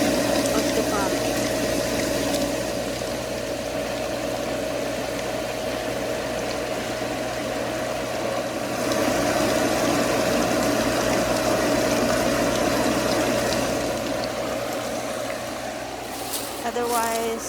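Pool pump dripping water at its base keeps up a continuous droning hum with a fixed whine and watery rush, loud and near, with a person speaking over it and a brief clatter near the end.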